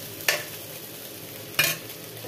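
Spices frying in a pan get stirred in two brief scraping, sizzling bursts, close and moderately loud over a quiet background hiss.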